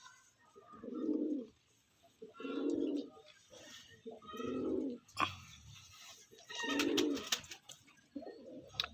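Andhra breed pigeons coo in a series of deep, rounded bursts, four or five distinct phrases spaced about a second apart, fairly close and clear with little else around them.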